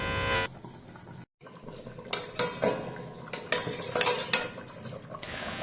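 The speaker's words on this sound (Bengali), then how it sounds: "কিছুক্ষণের জন্য ঢাকনা দিয়ে রাখবো।" Metal lid clanks and scrapes onto a cooking pot of katla fish head curry with tomato, several sharp clatters and rattles close by after a brief silence.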